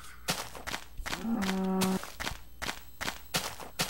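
Cows mooing in the Minecraft video game, a long, clear low moo in the middle with quieter game sounds and footsteps around it.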